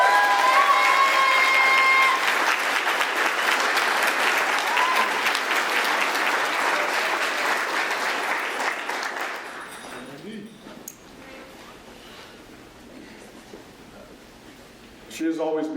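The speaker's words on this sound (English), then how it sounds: "can we give her a round of applause?" Applause at a police captain's retirement ceremony is loud and full at first, with tonal sound mixed in. It tapers off toward the end, and a voice resumes at the close.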